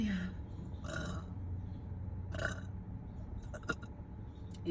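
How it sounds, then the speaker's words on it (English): Several loud burps come in quick succession, short throaty belches spaced a second or so apart, close and clear against a quiet room. "cause these kind of burps you can't contain"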